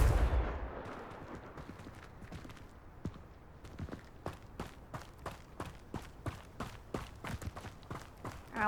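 Confringo blasting spell in Hogwarts Legacy, landing as a burst followed by a rapid train of sharp, evenly spaced cracks and thumps over a low rumbling background, with no talk.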